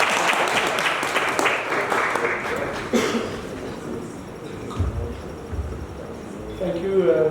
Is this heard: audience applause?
yes